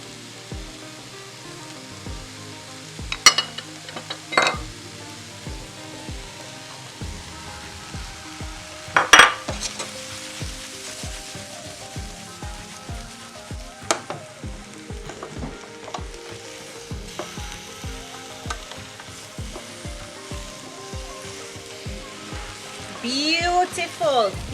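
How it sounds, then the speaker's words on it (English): Blanched vegetables hit a hot pan for a veggie stir fry, with a soft ongoing sizzle and a few sharp clatters of utensils against the pan. A voice speaks intermittently over the cooking. "Now I'm going to go ahead and I'm going to add in my blanched veggies."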